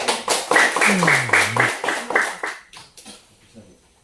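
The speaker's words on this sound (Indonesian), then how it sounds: "Tepuk tangan sekali lagi buat" Classroom applause, a short burst of clapping from a group of students that starts loud, thins into a few scattered claps and fades out, with a brief voice-like tone partway through.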